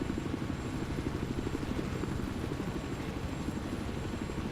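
Helicopter in the video game Battlefield 4, a steady rapid rotor chop with a continuous engine drone, moderately distant and fairly quiet, holding even throughout.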